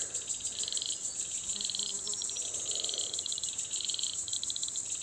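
Frogs croak in pulsing bursts near Logue Brook, Waroona, riding over a constant high insect drone, with no voices.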